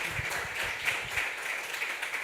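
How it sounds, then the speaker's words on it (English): An audience applauds at the close of a presentation at a pre-conference evening event, producing a steady, dense wash of clapping at moderate volume throughout, with no voices heard. "Big clap, big clap, big clap."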